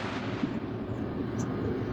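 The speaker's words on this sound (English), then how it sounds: "somebody's lighting fireworks." Fireworks going off nearby in an outdoor garden, heard as a dense, continuous low rumble and crackle that fills the whole stretch at steady loudness, with no speech over it.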